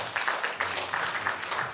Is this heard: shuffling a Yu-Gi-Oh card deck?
no